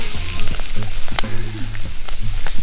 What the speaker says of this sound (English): Mushrooms are cooking down real nice.